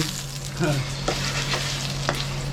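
Beaten eggs sizzle and fry steadily in a hot pan for a Chinese tomato and egg stir-fry, with a continuous crackle and occasional sharper spatters, close and alone.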